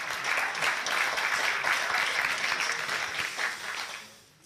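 Audience applause fills a theatre hall during a live comedy show, a dense, steady clatter of many clapping hands that holds evenly for about four seconds before tapering off at the end.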